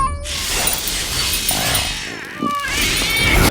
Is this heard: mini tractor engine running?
no